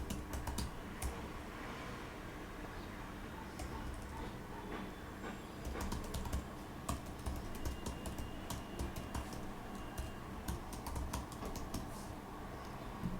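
Fingers type a name and email address on a computer keyboard, a steady run of quick, light key clicks with brief pauses, fairly quiet and with no voices.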